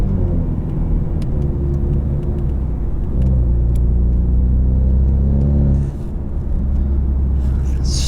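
A 2020 Ford Mustang Ecoboost 4-cylinder convertible with a performance exhaust pulls hard, its engine droning and rising in pitch through a gear, then easing off before building again, heard from inside the car.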